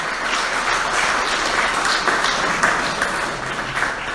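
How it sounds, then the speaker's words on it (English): An indoor theatre audience gives sustained applause honouring a veteran of the stage, a dense, even patter of many hands clapping at moderate loudness throughout. "A big round of applause for Mr."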